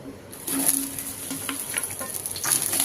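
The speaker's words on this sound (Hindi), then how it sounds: "अब इसी में हम भिंडी को फ्राई कर लेते हैं, सारे भिंडी को डालकर।" Okra sizzles steadily in hot oil in a dhaba-style bhindi dish, with a constant close hiss and light patter as the pieces settle, and no talking.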